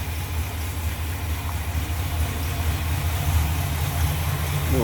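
A 1966 Cadillac DeVille convertible with a 429 V8 and a new Edelbrock carburetor idles smoothly, a steady low rumble heard close, even and unbroken for several seconds.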